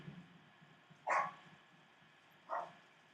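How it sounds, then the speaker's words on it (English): A dog barks twice in the background of a live stream, two short, moderately loud barks spaced about a second and a half apart over a quiet room hum. "A live event with me would not be complete if I didn't have a dog barking."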